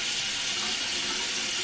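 Water runs from a tap into a sink during a face wash, a steady loud hiss of flowing water, close and uninterrupted throughout, with no voices.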